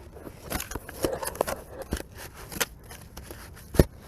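Small hand cutters snip a tree root free beside a dug-up polybutylene main water line: a series of sharp, close clicks and snips, irregular in rhythm, with one louder crunch near the end.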